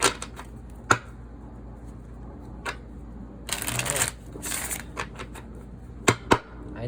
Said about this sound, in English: All right, let's give it 2 more shuffles,